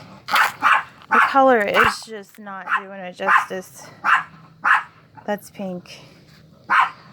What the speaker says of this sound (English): I do apologize for my little dog.